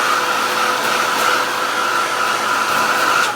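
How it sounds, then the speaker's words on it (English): A heat tool blowing hot air to dry paint on a stenciled craft background, a loud steady whirring hiss held close and unbroken throughout. "I'll do this really quick with the heat tool"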